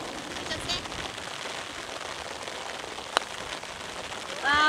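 Rain falls steadily on a golf course as a soft continuous patter, joined by a sharp click and a few brief rising tones near the end.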